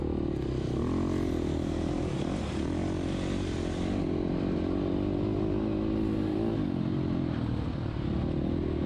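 An off-road motorcycle engine holds a loud, steady drone with constant throttle while climbing during the IXCR King of the Mountain 2021 race, close and continuous with only slight pitch wavering throughout.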